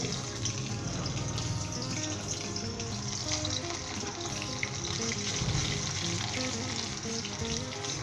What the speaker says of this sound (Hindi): सबसे पहले इसके अंदर हम लहसुन डालेंगे, इसे फ्राई करेंगे 1 से 2 मिनट के लिए।